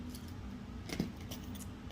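A bunch of keys fitted with handmade bling key fobs jangles briefly, a soft metallic clink peaking once at the middle amid quiet room tone.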